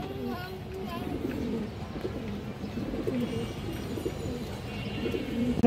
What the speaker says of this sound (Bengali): ইন্ডিয়ান হাই ফ্লায়ার সিলভার দম বা খাকি দম মাদি কবুতর